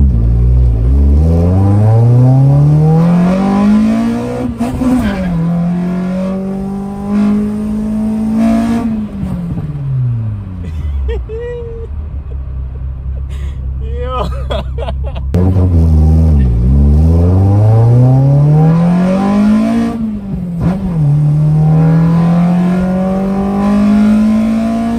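A Nissan SR20DE car engine fitted with individual throttles revs hard and repeatedly, pitch sweeping up and down through several loud throttle blips with sharp intake character, no talking.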